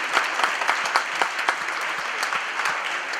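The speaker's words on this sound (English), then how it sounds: "big round of applause for Olivia Schlosser and Petunia" Steady applause from a live show audience, a dense wash of many hands clapping at an even level for the whole clip, with no speech over it.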